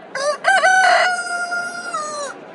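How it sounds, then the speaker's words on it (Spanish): A rooster crows once, loud and close, in a single long cock-a-doodle-doo with a rising start and a sustained, slowly falling tail, heard alone with no voices. "Inmediatamente cantó un gallo."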